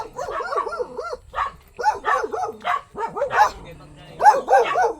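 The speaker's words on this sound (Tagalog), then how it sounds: "Iti aso." A dog barks and yips repeatedly in short bursts, fairly close, with a few pauses between the barking.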